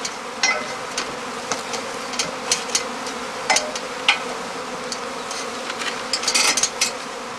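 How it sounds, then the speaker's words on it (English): A cast, a small honeybee swarm, flies to a straw skep placed on the eaves. Close, dense buzzing is dotted with sharp passes of individual bees that rise and fall throughout, and no one speaks. "By means of a skep placed on the eaves, the beekeeper offers the swarm a dark hollow"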